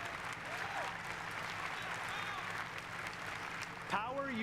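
An audience at the Xbox E3 presentation applauds for several seconds, moderately loud and steady, while a voice speaks over the clapping near the end.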